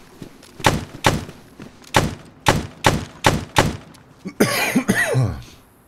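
A character in the DayZ video game coughs repeatedly, about eight sharp, evenly spaced coughs in close succession, followed by a rougher, throaty hacking burst at the end, loud and close with no talk over it.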